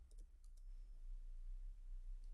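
A computer mouse clicking during Java coding work, with a few faint, quick clicks near the start over a low steady hum, and no talk.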